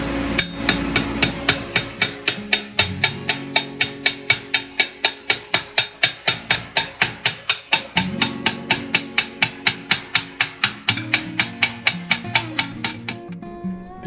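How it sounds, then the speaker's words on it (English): Hammer forging a metal tube in a swage on an anvil, with a long run of evenly spaced, loud ringing metallic blows struck in a steady rhythm, close up and with no talk. "Next, we'll move forging to a swage on the anvil."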